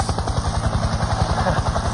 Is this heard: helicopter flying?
yes